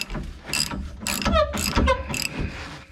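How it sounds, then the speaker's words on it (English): Bolt on a Duramax L5P levelling kit being tightened by hand with a ratchet, giving a few short bursts of clicking pawl and metallic rasping, close up and fairly quiet, with no talk. "I gotta hand tighten it first"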